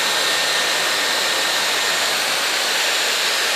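A Dyson Airwrap hair styler on its heat setting blows a steady, loud stream of air, a broad even whoosh that holds without a break from start to finish.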